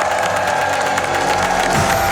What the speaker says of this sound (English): Please cheer him on for this song.